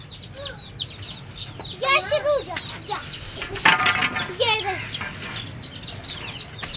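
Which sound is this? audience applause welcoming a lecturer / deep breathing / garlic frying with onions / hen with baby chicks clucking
hen with baby chicks clucking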